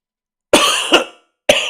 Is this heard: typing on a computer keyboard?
no